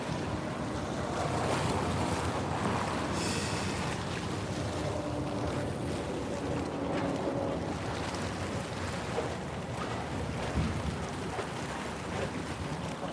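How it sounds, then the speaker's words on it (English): Water at Long Beach washes and laps continuously with steady surf-like hiss and wind noise buffeting the microphone, close and fairly loud, with no talking. "Listening to the water is super duper calming."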